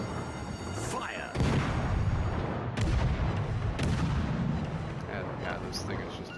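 Warship guns boom in World of Warships as a Tier 1 ship opens fire. Several heavy, echoing salvos come in a ragged sequence with rumbling tails, and a voice talks over them.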